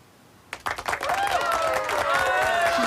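Audience applause and cheering during a live talk show burst out suddenly after a brief quiet moment, building into a steady, full round of clapping with raised voices mixed in.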